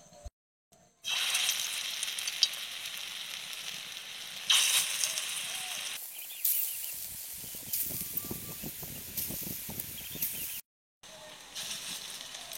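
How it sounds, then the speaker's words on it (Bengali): Balls of papaya and lentil batter fry in hot oil, giving a loud continuous sizzle and hiss with crackling bursts that swell as pieces drop in, broken by a few short silent gaps. "তো পেঁপে দিয়ে যে ব্যাটারটা রেডি করে রেখেছিলাম সেটা এবার তেলে ভেজে নেব।"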